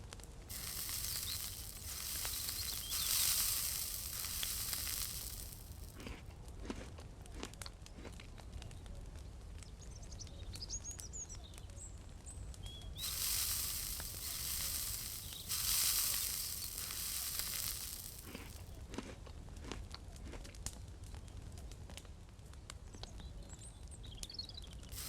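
Food sizzles and crackles as it cooks over a campfire in the survival game Mist Survival. The frying hiss is steady and swells in two longer waves, with light clicks and faint ambient chirps around it.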